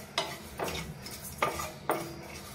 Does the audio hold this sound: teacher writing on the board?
no